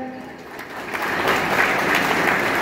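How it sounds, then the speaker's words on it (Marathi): A crowd claps steadily throughout for the Indian team, a broad wash of applause that builds slightly and holds. "एकदा भारतीय संघासाठी आपण टाळ्या देऊयात"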